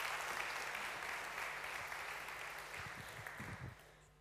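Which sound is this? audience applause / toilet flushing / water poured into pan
audience applause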